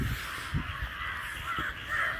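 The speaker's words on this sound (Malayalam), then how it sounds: "ഫുൾ ബാക്കില് കാക്കകൾ പറന്നു പോണു സ്ലോ മോഷനിൽ" Crows fly overhead beside a canal where people are trap-fishing, giving a few scattered caws over a steady outdoor background.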